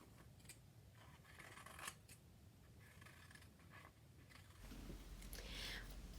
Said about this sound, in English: Let's cut these rounded shaped petals.